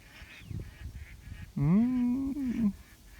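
Ducks call overhead as they fly in: scattered faint calls, then a loud, drawn-out nasal honk lasting about a second, with soft ambient noise around it.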